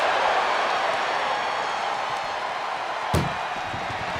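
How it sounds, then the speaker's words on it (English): During an ambulance match at a WWE wrestling event, one ambulance door slams shut with a single sharp bang partway through, set against the loud, steady roar of an arena crowd. "Trying to at least slam one door shut."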